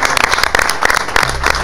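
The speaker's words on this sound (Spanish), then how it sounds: "un aplauso para Joaquín" A studio audience breaks into brief applause, dense clapping bursts lasting under two seconds, heard together with a person speaking.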